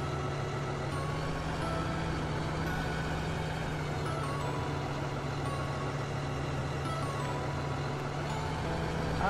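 A Scania logging truck's engine gives a steady, low diesel rumble at moderate distance, droning evenly throughout without changes in pace.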